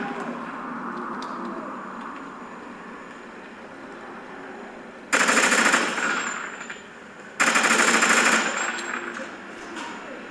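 Gunfire from a weapon in the Call of Duty Ghosts video game: two loud bursts of rapid automatic fire, each a couple of seconds long, over a quieter game background with brief speech.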